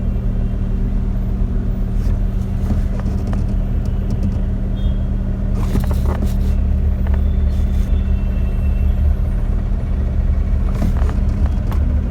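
A Tata Nano car engine pulls away under light throttle in bumper-to-bumper traffic, giving a steady, loud, low rumble throughout with no talk.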